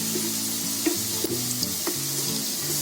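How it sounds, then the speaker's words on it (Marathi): Besan and rava dough pieces fry in ghee in a pan, giving a soft, steady sizzle with occasional small pops and clicks, while faint tonal music plays in the background. "आता आपल्याला ना कलर येईपर्यंत याला भाजून घ्यायचे, चांगले फ्राय करून घ्यायचे"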